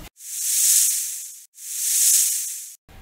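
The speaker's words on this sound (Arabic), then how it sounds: "الثعبان." A snake hisses twice in two long, loud breathy bursts, each swelling and fading, separated by a short silence, heard alone in a jungle-animal sound set for children.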